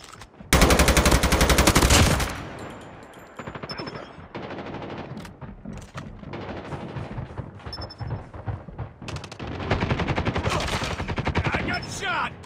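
Rapid automatic gunfire from Call of Duty Mobile multiplayer, an opening sustained burst followed by repeated clattering volleys, loud and close, with brief game voice callouts mixed in.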